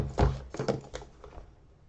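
A boxed Ultimate Hacking Keyboard package is opened and handled, giving a few soft thuds and taps with light rustling, loudest near the start and fading to quieter handling noise, with no talking.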